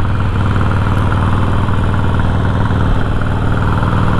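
A motorcycle engine idles close by, a loud, steady, even rumble that holds without change throughout.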